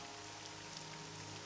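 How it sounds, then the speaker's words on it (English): Steady rain patters on a sheltered pavilion roof in Morrowind, a soft continuous hiss at low level with no voices. "I'm reading in a sheltered pavilion in the rain"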